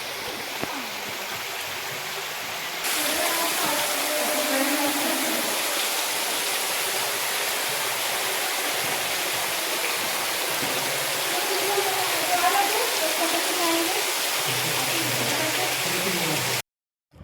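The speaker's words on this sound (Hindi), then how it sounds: "यहाँ भी वाटरफॉल जैसे बना हुआ है फ्रेंड्स, देखिए चारों तरफ बारिश सा हो रहा है" A waterfall roars steadily with spray falling around like rain, a dense broadband wash close by that swells after a few seconds and holds, with voices faintly underneath.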